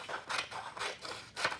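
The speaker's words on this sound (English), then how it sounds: "Now I want you to take your scissors and to cut" Scissors snip through a short piece of paper about 3 or 4 inches wide, cutting it into strips for weaving, with four crisp, close cuts coming in a steady rhythm, no voices present.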